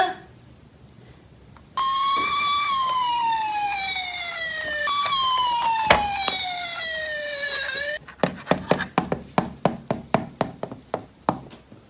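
Toy ambulance siren wailing loudly in a steady repeating sweep for several seconds, followed by a quick series of sharp clicks and taps as it stops.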